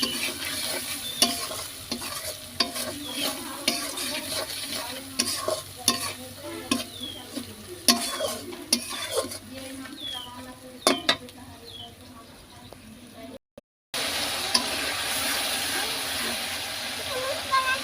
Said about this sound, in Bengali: মশলাটা কষিয়ে নিচ্ছি একবার তেল চলে আসছে